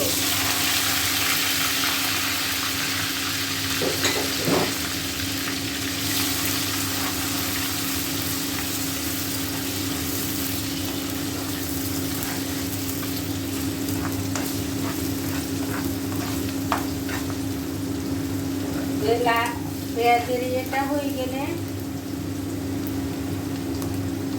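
Onion frying in oil left from earlier browned onions, a steady close sizzle and hiss with occasional stirring scrapes and a few clinks of the spoon against the pot.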